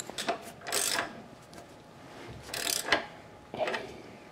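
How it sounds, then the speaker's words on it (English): A wrench tightening a 15 mm nut on a Razor EcoSmart Metro scooter, with three bursts of quick ratcheting clicks separated by quiet pauses, close and fairly soft with no talking. "I'm going to get a real wrench on this and just snug it up."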